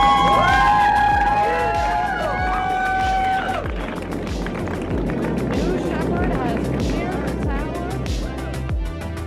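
A Blue Origin rocket lifts off as a crowd cheers and shouts, with whistling tones early on, then a broad rumbling roar under sustained crowd noise, loud and continuous.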